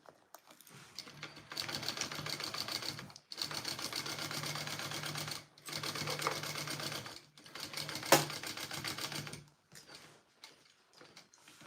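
Domestic sewing machine basting the straight raw edges of a sling bag's lining and exterior pieces together, in four steady whirring bursts of stitching separated by short pauses, close and moderately loud.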